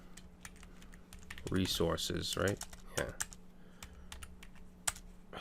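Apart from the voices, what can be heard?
typing on a computer keyboard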